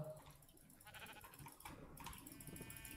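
Sheep bleating in a multiplayer video game, a few soft bleats mixed with game sounds and faint keyboard typing, fairly quiet overall.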